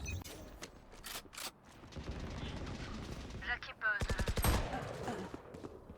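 Gunfire in the Valorant video game: a few quick shots early on, then a rapid burst of automatic fire near the end, fairly quiet and mixed with someone talking and laughing.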